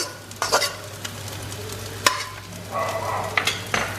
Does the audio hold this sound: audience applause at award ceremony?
no